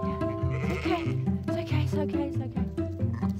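Sheep bleating during lambing season, several overlapping bleats and calls in quick succession, close and loud, with a flock layering voices of varied pitch.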